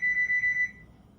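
A kitchen timer being set beeps in quick succession, four short close tones running together, then fading into quiet room noise.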